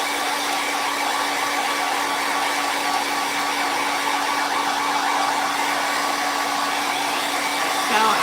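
A hair dryer blowing over a craft project at a home crafting table: a loud, steady, continuous whooshing hum, close up and unbroken, with no talking.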